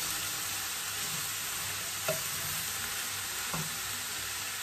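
Seasoned indomie noodles fry in a pan with a steady, close sizzle as they are stirred and turned, with a couple of brief scraping clacks from the utensil and no talking.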